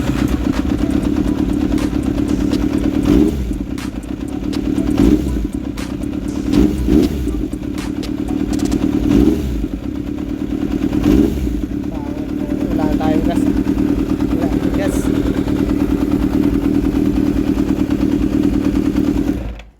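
A Yamaha XJR400 motorcycle engine idles and runs steadily up close, with a few revs and clattering bursts while someone talks over it.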